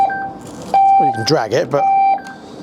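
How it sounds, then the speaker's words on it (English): Electric scooter's anti-theft alarm sounding steady electronic beeps and tones in a "do not steal me" lock mode, close and loud, with someone talking over part of it. "it does have an alarm and a do not steal me mode"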